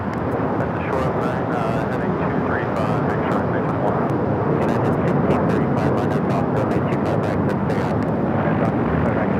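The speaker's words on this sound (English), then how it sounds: "Emirates making that final turn, heading into the gates of Tom Bradley International Terminal." An Emirates airliner making its final turn toward the gates at Tom Bradley International Terminal, LAX: a steady, broad jet rumble held throughout, with wind buffeting the microphone in sharp gusts.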